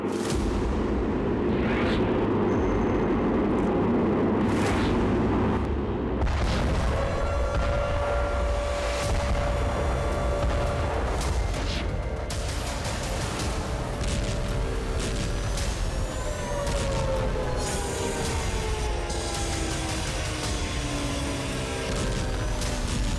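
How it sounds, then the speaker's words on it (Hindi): Missile strikes and explosions in a war zone, with booms and rumbling blasts running continuously alongside whining, rising tones over about twenty seconds. "आसमान से ताबड़तोड़ अंदाज में मिसाइलों से प्रहार"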